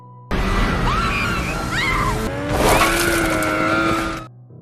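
Snowmobiles driven by mutants race through snow in a horror movie chase, engines roaring loudly with rising and falling whines and a sharp surge midway before the noise cuts off abruptly.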